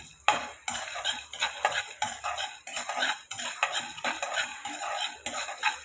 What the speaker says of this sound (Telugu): ధనియాలు, వేరుశనగ గుళ్ళు అండ్ ఇదండి పచ్చిమిరపప్పు వేయించుకున్నాము. ఇవి ఆయిల్ లేకుండా వేయించుకోవాలండి.